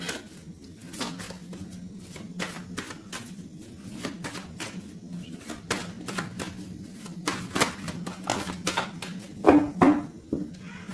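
A deck of tarot cards is cut and handled during a reading, giving a run of crisp, close papery snaps and flicks in uneven bursts over a low steady background hum.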